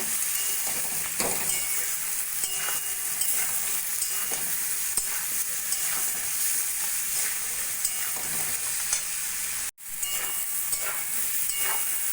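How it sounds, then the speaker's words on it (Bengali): Steady, loud sizzling of salt, turmeric and cumin powder frying in a pan, with scattered scraping clunks from stirring and a brief break near the end. "মশলা দিয়ে একটু ভাজা ভাজা করে নেব"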